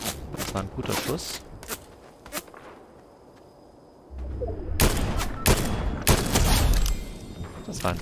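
Loud Fortnite gunshots crack out in irregular clusters, fall quiet for a couple of seconds, then return as a denser, heavier barrage of close firing.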